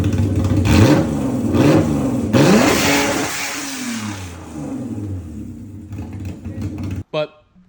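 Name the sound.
car engine revving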